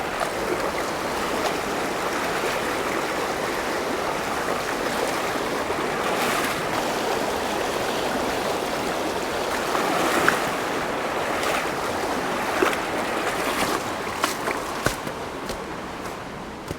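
A creek crossing on a hiking trail to a waterfall after rain, with steady broadband rushing water flowing nearby and some splashing and rustling throughout.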